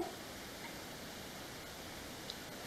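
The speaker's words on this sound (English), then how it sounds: "we're just going to search for white noise." Steady, even hiss of white noise played from a phone fills the clip without a break, fairly quiet, as if playing from a small speaker.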